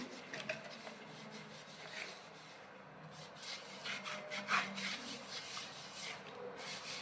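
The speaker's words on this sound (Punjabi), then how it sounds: "ਹੁਣ ਆਪਾਂ ਇਹ ਸਕ੍ਰੱਬ ਲੈਤਾ ਤੇ ਆਪਾਂ ਇਹਦੇ ਨਾਲ ਇਹਨੂੰ ਸਾਫ਼ ਕਰਾਂਗੇ" A scrub brush is rubbed against a dirty toilet with continuous brisk scrubbing and scraping, fairly close and moderately quiet.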